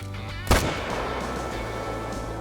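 A single sharp M1 rifle shot rings out in the hunting video game Call of the Wild, a loud close crack followed by a long fading echo across open terrain.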